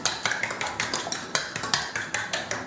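Eggs are beaten with white pepper and soy sauce in a bowl, a utensil clinking against the sides in a quick, steady rhythm of bright taps, close and alone.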